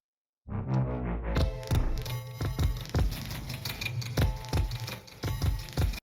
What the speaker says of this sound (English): Two jukeboxes sound like this